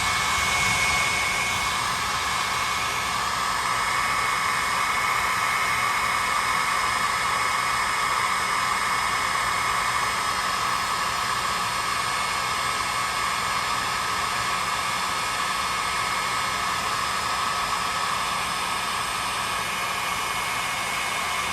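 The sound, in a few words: hair dryer blowing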